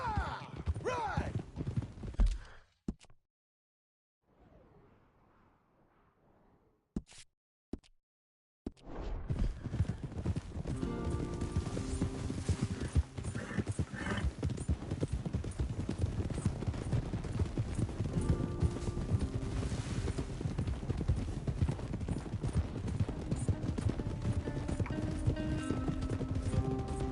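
Horse hooves clip-clop at a gallop in Red Dead Redemption II, a dense, steady drumming that fills most of the stretch, cut by a brief near-silent gap early on.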